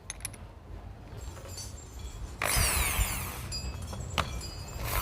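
A power drill with a Forstner bit whirs up and bites into wood with a rising grinding whine, then clinks and rattles briefly, close by and loud.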